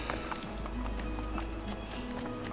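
Horse hooves clip-clop steadily in the video game Assassin's Creed II, a brisk rhythmic trot of close, clear hoofbeats over a constant low game ambience.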